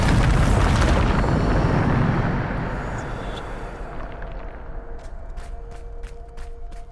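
A Bombarda blasting spell in Hogwarts Legacy lands as a loud, rumbling explosion that booms for about two seconds and then fades into a long decaying roar, followed by faint scattered clicks and debris settling.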